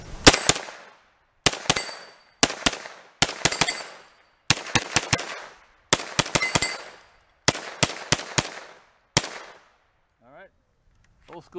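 An old-school AR-10 rifle fires at an outdoor range in quick bursts of two to four sharp, loud cracks separated by brief pauses, with the shots echoing and then giving way to quiet near the end.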